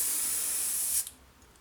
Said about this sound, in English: Spraying very good.